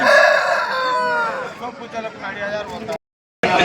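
A rooster crows at the Peeleru chicken market in a long, loud, close call with another bird joining in. A voice talks over it, then there is a brief silent gap and the market noise resumes.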